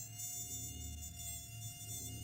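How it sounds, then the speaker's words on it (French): A cartoon swarm of robot mosquitoes buzzes in a continuous, steady drone with a thin high whine, alone and fairly faint. "À moi, mes fidèles moustiques."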